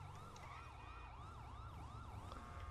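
A police car siren from the GTA 5 video game wails in regular rising and falling sweeps, loud and continuous over a low engine rumble, with no talk.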